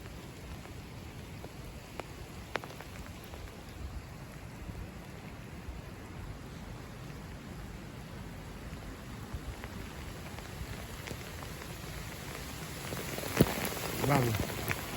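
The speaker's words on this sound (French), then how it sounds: "c'est juste une brève mais forte averse" Heavy rain pouring steadily outdoors during a surprise February hailstorm, a dense continuous hiss of drops on surfaces, with a sharp burst of rattling and gusting near the end.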